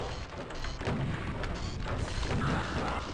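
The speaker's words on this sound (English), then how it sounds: "Maybe a third BFG shot?" The BFG fires in Doom II on Hell Revealed II MAP19, Mind Trap: heavy, booming blasts with thuds and rumbling impacts, loud and close over dense game noise, with no talk.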